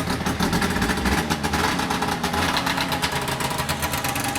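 A restored 1990 Arctic Cat Jag 440 snowmobile engine idles after a cold start, a loud, close, steady two-stroke burble with slightly uneven pulsing throughout.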